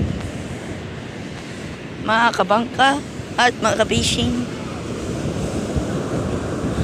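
Steady roar of big ocean surf and wind fills the clip, with people on a boat crossing talking and calling out loudly over the crashing waves in the middle.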